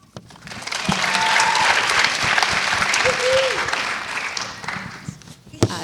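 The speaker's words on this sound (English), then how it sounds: "Can we just give them all just one more round of applause?" An audience at an annual Day of event on children of incarcerated parents applauds steadily, a dense sustained wash of clapping that rises quickly and fades toward the end.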